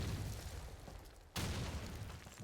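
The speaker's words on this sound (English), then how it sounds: "let's see if the grenade lands" In Call of Duty 2, a grenade goes off in a sudden loud burst amid constant dense battle noise during a tournament match, heard once.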